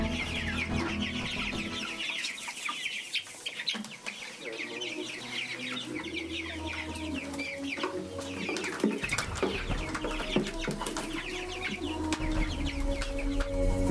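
Chickens clucking in a farm yard where pigs and rabbits are also kept, a steady busy flock of overlapping clucks and calls with other livestock sounds around.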